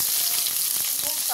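Chopped hog plum sizzles and fries in a pan of hot mustard oil with mustard seeds and dried chillies, giving a steady, close, crackling hiss with light stirring scrapes throughout.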